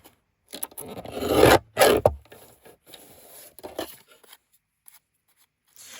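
Paper being trimmed for a mini notebook, a few close rasping, scraping cuts with two louder strokes near the start, then softer intermittent rubbing and quiet gaps.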